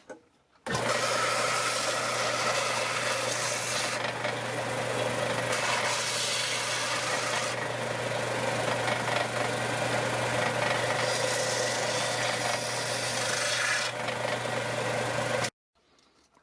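A power sander runs steadily and loudly for about fifteen seconds on small wooden whirligig pieces held together, its gritty buzz shifting slightly as pressure changes, then cuts off.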